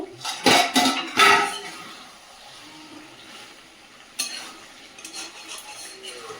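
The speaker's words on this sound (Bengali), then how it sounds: "ঢাকনাটা খুলে দেখে নেব।" Lid lifted off a pot of cooking chicken, a few close metallic clanks and scrapes early on, then quiet simmering with another clink of cookware near the end, no speech.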